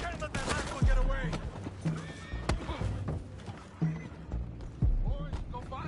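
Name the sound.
horses neighing in video game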